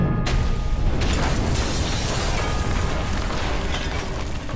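A large battlefield explosion in a dramatized audio story, opening with a sharp burst and rolling into a sustained loud roar of debris and rumble that persists without letup.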